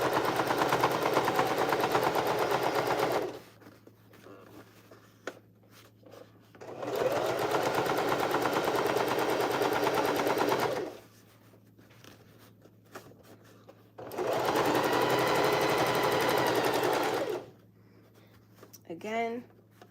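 Sewing machine stitching through several thicknesses at the side seam of a bucket hat, running in three rapid, steady bursts of a few seconds each, with quiet handling noises between the runs.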